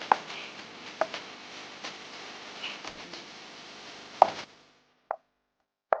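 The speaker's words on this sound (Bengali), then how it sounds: "তো আলুটা আমি কেটে নিই ছোট ছোট টুকরো করে" A knife chops potatoes into small pieces on a board, a handful of sharp, separate thuds at uneven intervals over a soft background hiss, then brief near-silence between the last few cuts.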